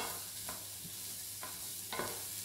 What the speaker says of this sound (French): je vais faire revenir mes oignons pendant un petit moment